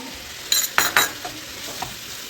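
Chicken pieces seasoned with salt and pepper powder fry in a pan, three quick bursts of hissing and scraping from stirring, then a quieter low sizzle with a couple of soft taps.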